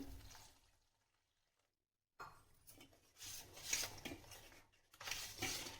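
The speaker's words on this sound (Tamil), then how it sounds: "அதுக்கோசம் நான் தண்ணி ஊற்றி வைக்கிறேன்." Water pours into a bowl of black kavuni rice to soak, in short splashing bursts, with faint clinks of a dish between them and a brief quiet gap.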